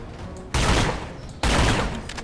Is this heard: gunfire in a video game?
yes